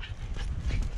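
A dog reluctant to be bathed whimpers and whines softly in a brief, close, low-level burst, with no speech.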